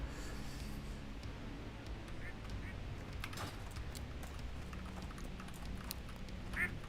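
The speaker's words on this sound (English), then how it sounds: "you just found where that duck comes from. I hear that duck in capital cities" A duck quacks faintly a few times amid steady background hum in the video game Turtle WoW, with a person talking softly.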